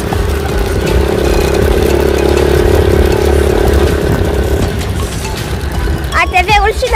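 A small-engine ATV runs steadily at close range, a loud, constant mid-pitched drone that eases slightly near the end as birds chirp faintly over it.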